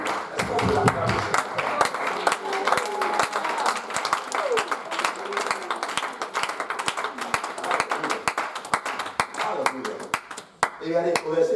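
A church congregation applauds steadily, with many hands clapping in a dense, continuous patter close by. Voices call out over it, and a speaking voice comes in near the end.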